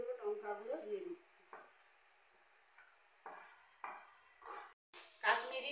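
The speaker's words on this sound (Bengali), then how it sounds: "সবজিগুলোকে ভালো করে নেড়ে নিচ্ছি" Vegetables being stirred in a pan for sambar, with several soft scraping, sizzling strokes spread across a few seconds, close by and moderately quiet, without speech.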